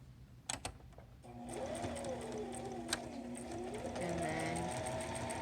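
A sewing machine stitches along a fabric fold on a zipper pouch. A few clicks come first, then a steady, moderate whir runs to the end, with a brief spoken phrase at the start.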